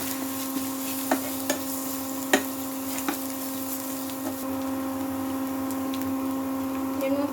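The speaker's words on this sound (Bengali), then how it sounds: "পেঁয়াজ ভাজা হয়ে গেছে, এটার মধ্যে একটু 1 চামচে আদা আর রসুনের পেস্ট দিয়ে দিচ্ছি।" Ginger garlic paste frying among fried onions in a pan for a Bengali doi catla curry, with a steady close sizzle, a constant hum, and several sharp spoon scrapes from stirring.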